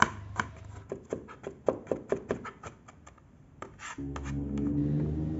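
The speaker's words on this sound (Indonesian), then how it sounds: "Bawang putihnya kita cincang halus." Garlic being finely minced with a knife for an egg fuyunghai, a run of quick, fairly even knife taps against a board that stops near the end as a louder, steadier hum takes over; no talking.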